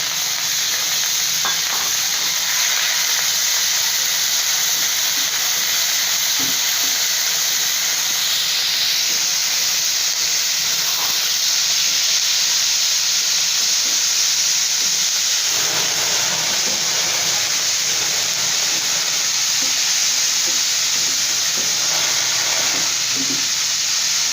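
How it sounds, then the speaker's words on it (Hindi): Chicken sizzles and fries in hot oil in a pan, a loud, steady hiss and crackle running the whole time with occasional stirring scrapes, no voices over it. "अब ये एक पैन लिया है, इसके अंदर हमने ये ऑयल, जो 2 चम्मच ऑयल था, ये डाल दिया है। ऑयल जैसे ही गर्म होगा, हल्का सा गर्म करना है और आपने इसके अंदर ये चिकन ऐड कर देना है।"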